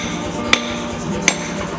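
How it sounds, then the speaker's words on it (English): An Anyang power hammer strikes a hot axe head on a drift during forging, two sharp metallic blows spaced under a second apart, loud and close over a steady machine hum. "to the big power hammer, and under we go"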